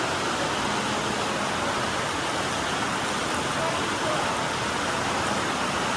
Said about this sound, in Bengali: বৃষ্টিটা দেখুন, জোরে বৃষ্টি হচ্ছে।